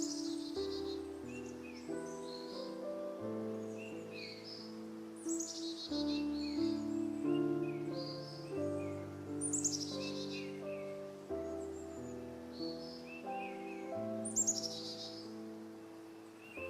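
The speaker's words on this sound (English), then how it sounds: "Notice the sounds of the forest, the rustling of leaves, the chirping of birds" Brief, bright bird chirps in a forest recur every couple of seconds over soft, sustained musical tones, the calls light and somewhat distant.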